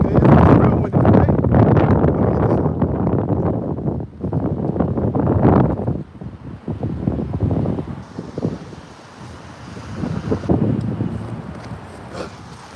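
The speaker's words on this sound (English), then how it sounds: "Oh, okay, it's real windy, right?" Strong wind gusts buffet an outdoor microphone, producing loud, rumbling bursts that rise and fall unevenly, with someone talking intermittently underneath.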